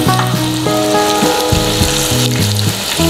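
Nargisi chicken kofta fry in a pan over a medium flame, a close, steady crackling sizzle lasting the whole stretch, with faint tonal hum underneath and no talking.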